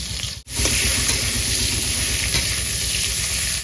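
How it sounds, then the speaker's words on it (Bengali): Raw banana pieces fry in leftover oil with a pinch of salt, giving a loud, dense and continuous sizzle close by after a brief dip at the start, with no talking. "বাকি যে তেলটা ছিল সেই তেলে কলাগুলো ভেজে নেব"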